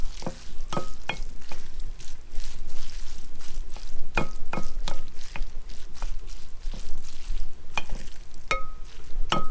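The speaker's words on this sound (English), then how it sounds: "I'm going to toss that around a bit so it gets all mixed in" Noodles tossed in a hot pan for ginger lime beef, with a steady sizzle and frequent sharp scrapes and clicks from the utensils, close and fairly loud.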